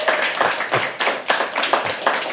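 Audience at a poetry open mic clapping in a loose, uneven rhythm, a handful of distinct hand claps close by, moderately loud with no talk over it.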